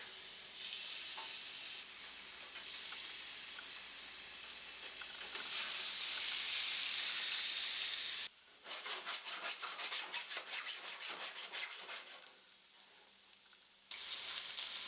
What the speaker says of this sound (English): To a hot pot, we're adding 3 tablespoons of olive oil, and we are adding our pieces of salmon to sear.